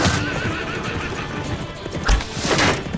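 Several horses neigh and whinny loudly amid the clatter of hooves in a tense battle scene, with sharp calls breaking out near the middle and end over a busy, continuous background.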